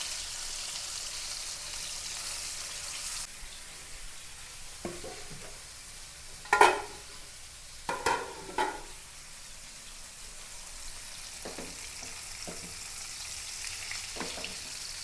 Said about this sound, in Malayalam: ഒരു 5-8 കഷ്ണം മീൻ വറുത്തെടുക്കണേ കേട്ടോ